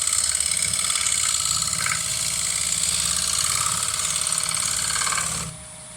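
Woodturning lathe taking light final cuts on a cracked wooden bowl, a steady close whirring hum with a fine scraping rasp that stops abruptly near the end.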